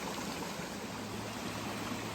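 Stream water flows at the Spout Run crossing on the Appalachian Trail, a faint, steady, hissing rush heard alone with no voices.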